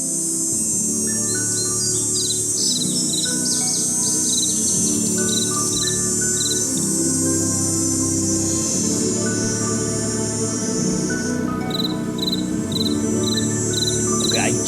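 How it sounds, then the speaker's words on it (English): Ambient bird calls in the video game Nancy Drew: Ghost Dogs of Moon Lake: clear repeated chirps and tweets ring over a dense, continuous bed of cricket trilling, loud and steady throughout. "But I gotta figure out where this bird is."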